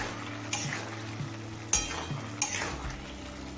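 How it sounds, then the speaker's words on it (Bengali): Vegetables for a savoury patishapta filling being stirred in a pan, with a soft steady sizzle broken by a few sharper scraping knocks of the utensil against the pan. "5-6 মিনিট রান্না করে নেওয়ার পর এবার একটু নাড়াচাড়া করে নিচ্ছি"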